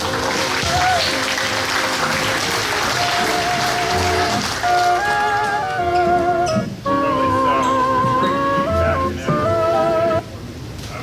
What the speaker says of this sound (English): Can we have a round of applause for our speaker?